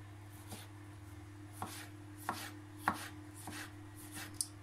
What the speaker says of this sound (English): And slice them finely too.